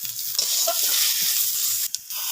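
Garlic paste sizzling and frying with chopped onions and chilli in a hot wok, a steady broadband hiss with scraping stirs, a brief louder burst near the end, no talk.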